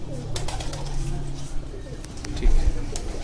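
Breeder pigeons on a rooftop loft coo in low, soft rolling calls near the start, with scattered bird noise and someone talking in the background.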